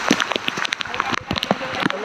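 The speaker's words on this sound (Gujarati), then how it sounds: "મિત્રો જો વરસાદ ચાલુ થઈ ગયો હે" Rain begins pattering steadily around people climbing Girnar mountain near Junagadh, a close, scattered patter of drops under voices talking.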